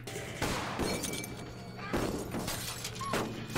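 Glass shatters in a scene from the TV series Torchwood, episode Countrycide, with crashing impacts repeating roughly every second and a half, loud and close.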